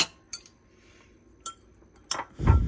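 A spoon stirs sweet potato honeybun cake batter in a bowl, a few sharp clinks of metal against the bowl spaced apart, ending in a louder scraping stir.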